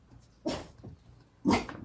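A dog barks twice, two short gruff woofs about a second apart, close by and fairly quiet, with no talking.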